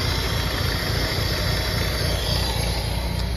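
A Nissan Sentra B14 engine with flooded cylinders and worn fuel injectors idles in a steady, dense drone close by, with no talk over it.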